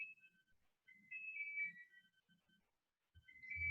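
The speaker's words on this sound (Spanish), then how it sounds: "Hay una alarma allá afuera." An alarm sounding outdoors at a distance, a faint electronic warbling tone that rises and repeats in bursts, with a low rumble near the end.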